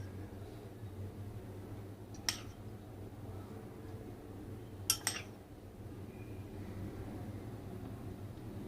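A spoon mixes Karachi-style falooda ingredients in a bowl, giving a single light clink and later a quick pair of clinks against a quiet, steady background hum.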